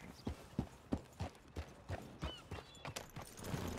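A horse's hooves clip-clop in a steady, lively rhythm in Red Dead Redemption 2, each strike distinct and fairly close, with a faint ambient bed beneath and no speech.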